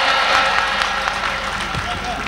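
Audience at a Hindi poetry recital (kavi sammelan) clapping, a dense, steady wash of applause from a crowd filling the room and gradually thinning out.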